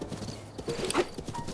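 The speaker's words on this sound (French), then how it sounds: "Attention les chevaux." Horses galloping in Zelda Breath of the Wild, a steady run of clip-clop hoofbeats with a brief whinny near the middle, the hooves moderately close.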